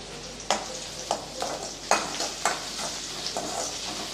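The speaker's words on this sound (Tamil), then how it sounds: "இப்போ இது கூடவே ஒரு கொத்து கருவேப்பிலை சேர்த்துடலாம்" Curry leaves sizzle in hot oil for a brinjal curry while being stirred, a steady frying hiss broken by several distinct scraping strokes, close and without speech.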